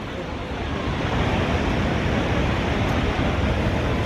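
Roaring Niagara Falls waterfall, a dense continuous rushing roar that stays loud and even throughout, with no voices heard.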